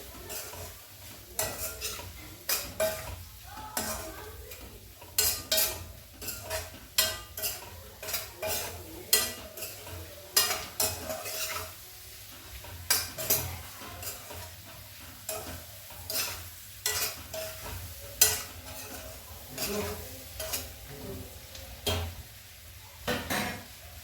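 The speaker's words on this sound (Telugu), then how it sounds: "కొంచెం పసుపు ఆల్రెడీ చికెన్లో మనం పసుపు వేసి బాయిల్ చేసుకున్నాము కలిపేసుకుందాము మంచిగా" Boiled chicken with turmeric being stirred in a pan for butter pepper chicken, a long run of rhythmic scraping and clinking strokes against the pan over a faint sizzle, moderately close.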